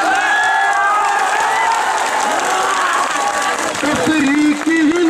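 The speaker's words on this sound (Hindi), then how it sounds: "अच्छा लगे तो तालियों की गड़गड़ाहट इतनी होनी चाहिए" An audience at a poetry recital applauds and cheers in a loud, sustained roar of clapping and crowd noise, with voices rising through it and a shout near the end.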